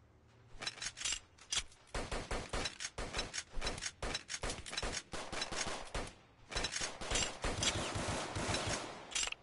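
Rapid automatic gunfire rattles in long sustained bursts in the Roblox game South Bronx Trenches, loud, dense volleys with brief gaps, nearly continuous throughout.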